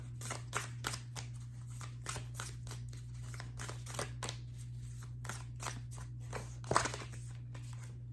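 Tarot cards are drawn and handled close up in a steady run of crisp flicks and snaps, with quick irregular card slaps and one louder snap near the end over a constant low electrical hum.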